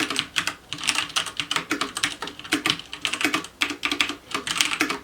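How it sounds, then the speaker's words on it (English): Rapid, continuous clacking of a WASD V2 mechanical keyboard with brown switches being typed on, close and fairly loud, with dense irregular keystrokes and no voices. "the brown type of switches that even if they're the least loud or like the least noisy type of switches"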